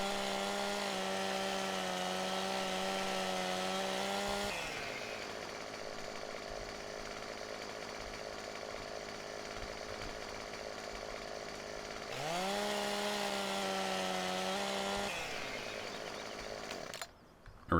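Chainsaw cutting up trees in the video game Farm Sim 17, a loud close engine that revs high, drops to a rough idle, then revs again with a sustained buzzing drone.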